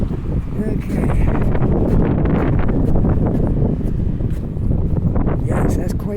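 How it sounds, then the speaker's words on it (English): Strong, gusty wind buffets the microphone outdoors on a city walk toward Halifax's South End, a rough, continuous low rumble that swells and eases, with a voice speaking briefly under it. "that's quite the wind blowing here"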